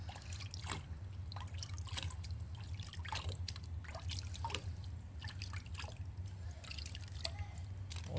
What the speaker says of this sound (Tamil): இந்த மாதிரி கையில் எடுத்து இதுக்குள்ளே கொஞ்சோண்டு தண்ணி ஊற்றிட்டு